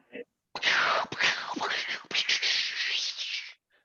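A person imitates a fireworks display with breathy whooshing, crackling and whistling mouth noises, rising and falling in short bursts over a few seconds during an online improv show.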